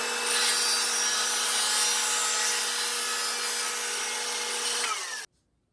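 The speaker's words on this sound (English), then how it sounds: "I'll sand them smooth completely before I make the next cut." A power sander smooths wood pieces cut for Celtic knot work, giving a loud, steady grinding whir with a humming tone that runs for about five seconds before stopping abruptly.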